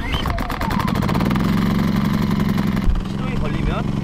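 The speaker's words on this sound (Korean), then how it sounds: "스위치를 초크 부분으로 돌려주신 후 리코일 스타터 레버를 당겨줍니다" A Hando HD2000ISW 2 kW low-noise inverter camping generator runs close by with a steady, buzzing engine chug that shifts briefly near the end of the clip.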